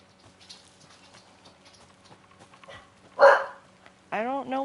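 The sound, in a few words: dog barking, from video game Alan Wake 2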